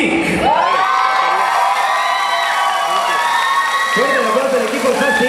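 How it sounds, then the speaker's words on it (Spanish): Team FASIC and a crowd at the WCS México 2018 awards ceremony cheer loudly, with high whoops and shouts riding over scattered applause, a dense, close burst that holds and swells again near the end. "Fuerte el aplauso del equipo FASIC."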